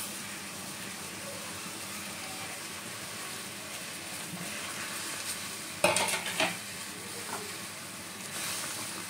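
Fried langcha sweets go into a pan of boiling sugar syrup, producing a steady bubbling hiss, then a brief burst of splashy plops and scrapes near the end. No one speaks.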